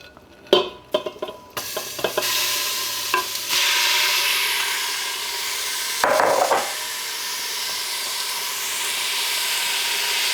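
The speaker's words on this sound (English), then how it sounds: "we're just gonna sear this stew meat on all sides." Stew meat sears in a tablespoon of olive oil in an Instant Pot, giving a loud continuous sizzle and hiss after a few opening clatters, with another brief burst of scraping partway through.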